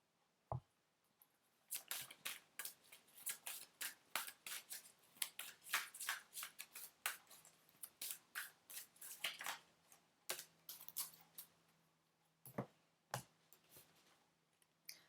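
A tarot deck is shuffled in quick bursts of crisp, riffling flutters and snaps, close up, with short pauses between passes.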